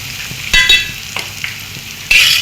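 Beef fry with onion is stirred in a hot pan: loud metal spoon scrapes and clanks come in bursts over a quieter background sizzle, close to the listener, with no talking.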